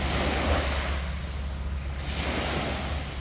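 Waves lapping at a lake beach on a warm morning, a soft continuous wash of water with a gusty wind rumble over the microphone, steady and fairly quiet throughout, with no voices.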